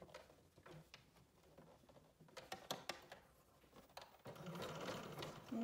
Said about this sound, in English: I'm going to stitch from the other side because I prefer watching my stitch on the right side of my foot.